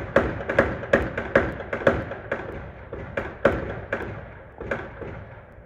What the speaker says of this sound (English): A barrage of gunfire there.